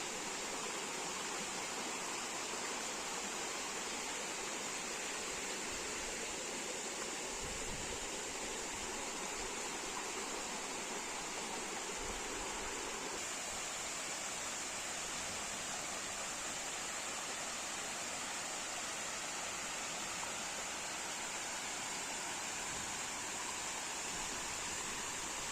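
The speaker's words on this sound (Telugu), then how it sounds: "పైనుండి అయితే ఈ విధంగా అయితే పారుతుంటూ వస్తుందండి, ఈ సందులో గుండా వస్తూ" Water pours down from above through a narrow gap beside a railway track, a steady, close rushing wash that holds evenly for the whole stretch with no voices over it.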